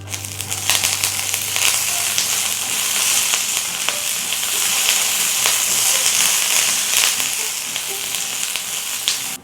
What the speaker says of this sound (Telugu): ఇప్పుడు దీంట్లో కొంచెం కరివేపాకు వేసుకుందాము